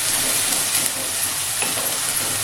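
Onion paste frying in a pan gives a steady, close sizzle with a constant hiss, and faint stirring scrapes run beneath it with no pauses and no voices.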